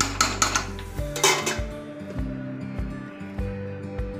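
Fried rice with chicken tossed and mixed in a pan, a spatula clattering and scraping against the metal in a run of quick knocks and scrapes, close and fairly loud.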